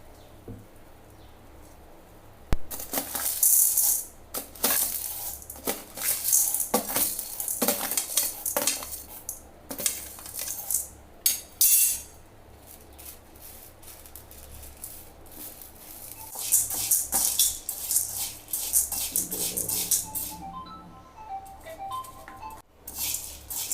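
Toor dal roasting dry in a pan, stirred with a metal spoon: repeated scraping and clinking strokes with a light rustle of lentils, close and fairly quiet, with no talk.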